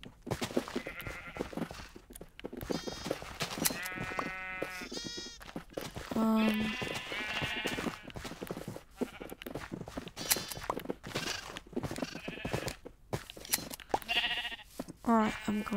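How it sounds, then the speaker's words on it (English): Sheep bleat repeatedly in the Kingdoms video game, their calls mixed with steady speech and busy game sounds throughout. "I love the sheep."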